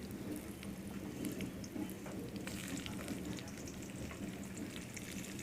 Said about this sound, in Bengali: এবারে আমি কড়াইয়ের মধ্যে আলুগুলো ভেজে নেব